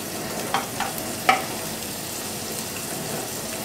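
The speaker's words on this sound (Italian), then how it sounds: "Soffriggiamo la cipolla e l'aglio." Onion and garlic sizzle steadily in a frying pan, a continuous close hiss with a few brief stirring scrapes and clinks early on, no talking.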